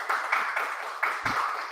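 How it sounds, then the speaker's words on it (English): Short burst of audience applause at a Las Vegas talk show taping, a few rhythmic hand claps in quick succession, fairly close and brief. "The audience in Las Vegas is applauding her right now."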